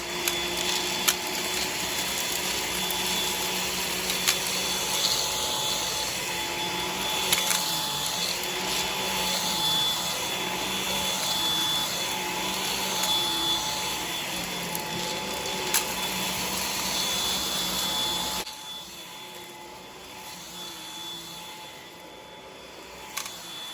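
A Samsung Jet 90 Complete cordless stick vacuum runs steadily on carpet with a loud, even motor whine and hiss, sometimes picking up jelly beans and larger debris, then shifts to a slightly lower, quieter tone near the end.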